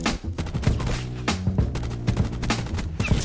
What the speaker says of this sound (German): Und jemand schießt zu close.